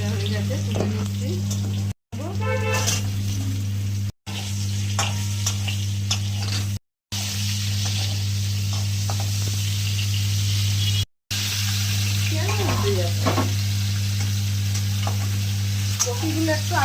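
Potatoes and cauliflower sizzle and spatter in a hot pan of oil while being stirred, a continuous crackling fry broken by short gaps, with a steady low hum underneath and scraping of the spatula.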